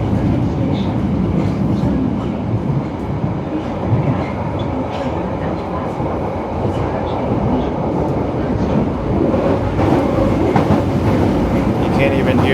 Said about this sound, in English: You can't even hear the announcements because the train's so loud here